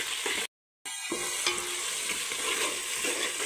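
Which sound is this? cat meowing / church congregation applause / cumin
cumin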